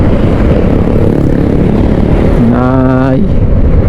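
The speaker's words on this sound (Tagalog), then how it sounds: "Pinatono natin kahapon yung ating motor" A freshly tuned motorcycle engine roars loudly and continuously while riding on the road, with heavy wind rumble throughout and a brief harmonic whine near the end.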